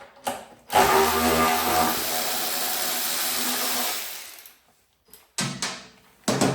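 Bolts being removed from a Husqvarna 450 Rally Replica motorcycle during an oil change: a sustained ratcheting, mechanical whir of a socket tool for about three seconds, then short bursts of tool noise, close and loud.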